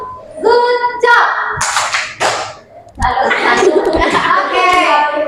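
Children in a classroom clapping hands in a patterned cheer, sharp bursts of claps mixed with kids' voices chanting along, close and loud, with a brief pause before a second round.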